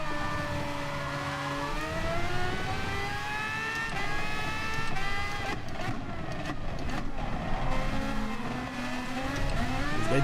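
Race cars in a drag race roar along together, their engines holding loud, steady tones that slide upward as they accelerate, with no talk over them.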